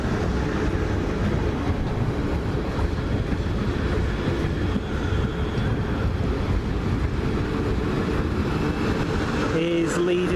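A Class 450 electric unit on a Portsmouth Harbour to London Waterloo service passes with a loud, continuous rumble and rushing roar. Wind buffets the microphone, and a brief tone sounds near the end.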